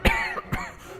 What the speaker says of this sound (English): A royal guard coughed.